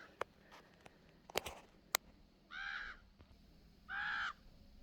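Ravens squawking on a still evening over a garden corn patch, two harsh drawn-out caws from a moderate distance, with scattered small clicks and taps between them in a quiet outdoor setting.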